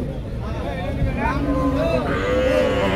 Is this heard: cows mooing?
yes